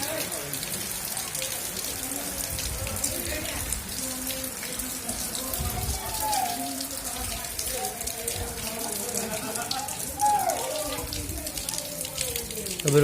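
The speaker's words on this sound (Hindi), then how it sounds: "अभी ये बारिश हो रही है।" Rain falls outdoors during a wet day of on-and-off showers, a steady hiss of drops on surfaces with some water splashing and no voices.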